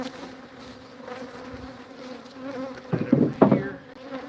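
Honeybees hum steadily around hives in an outlying bee yard, a constant close drone with a couple of louder buzzing swells as bees pass near toward the end; no talking.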